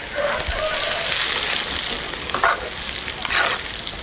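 Hot chili oil at high heat poured over ground chili flakes, Sichuan peppercorn powder and white sesame, giving a steady close sizzle with brief bubbling bursts throughout, no voices.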